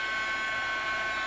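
A heat gun blows steadily while melting embossing powder on a handmade card, a constant close whooshing hum with no variation or talk.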